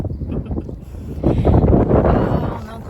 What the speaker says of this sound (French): Il y a quand même beaucoup de vent.